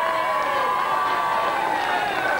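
Crowd at Alton Towers cheering strongman Glenn Ross after he wins the final event at Britain's Strongest Man 2000, a steady, dense wash of voices and cheers with no breaks.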